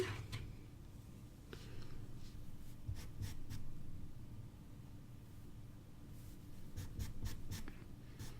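Coloured pencil scratching steadily across paper while adding lighter blue highlights and detail to a drawing of a jay, close and continuous with brief pauses and light tapping, no talking.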